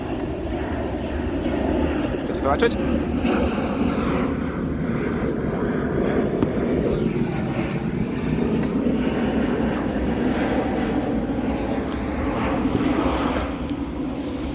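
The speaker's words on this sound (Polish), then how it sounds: "Jeszcze samolot leci akurat." A fixed-wing airplane drones overhead outdoors, a steady low engine rumble that swells slightly and persists throughout, with someone speaking briefly over it.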